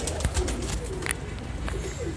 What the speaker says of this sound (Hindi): कप्तान जी ऊपर जा चुके हैं और दो कबूतर बैठे हुए हैं ऊपर।